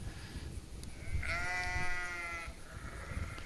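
A lead sheep in a flock gives one drawn-out, wavering bleat lasting about a second, with fainter bleats after it over outdoor background noise.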